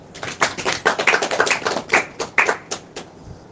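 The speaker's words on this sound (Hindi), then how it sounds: "बोलो ताली बजाओ ना" An audience claps in a quick, irregular burst of overlapping sharp hand claps, fairly close and loud, at a Hindi religious discourse, then thins out toward the end.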